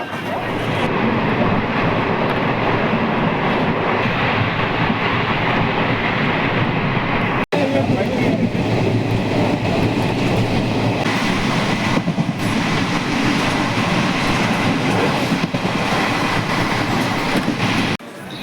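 A train at Durgapur railway station, with a loud continuous rumble of rail wagons and wheels that holds steady and close for the whole stretch, with no clear talk over it.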